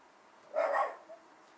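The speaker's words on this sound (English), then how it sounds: "Excuse the dog barking" A single dog bark, somewhat muffled and mid-distance, followed by quiet.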